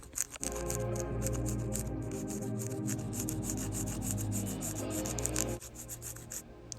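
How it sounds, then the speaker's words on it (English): Steady rasping of a file scraping back and forth across an artificial polygel nail, shaping it, close and continuous, easing off briefly near the end. "so I'm just filing it and shaping it down a little bit."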